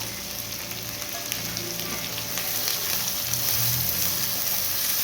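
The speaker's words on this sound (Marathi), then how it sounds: "कांदा व्यवस्थित परतवून घ्यायचा आहे ट्रान्सपरंट होऊ द्यायचा आहे तो" Onion, green chili and curry leaves sauté in a pan of hot oil for kande pohe, giving a steady, close sizzle with soft stirring scrapes throughout and no voices.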